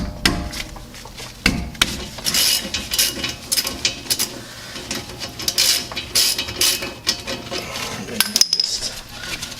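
A ratchet loosens the rear brake caliper slide bolts on a 2005-14 S197 Mustang, giving close, uneven bursts of metallic clicking and clinking with tool knocks, loud and unaccompanied by speech.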